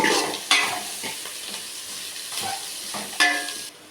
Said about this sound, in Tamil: இதையும் இப்போ நல்லா கிண்டிக்கலாம்.